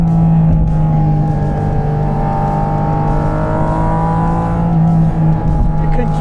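A Porsche Cayman GT4 RS engine pulling hard in first gear, a loud, steady, high-pitched roar heard close from inside the car while driving.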